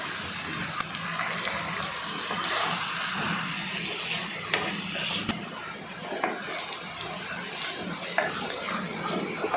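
Steady rain falls outside a home kitchen during lunch cooking, a dense, continuous hiss with no talking.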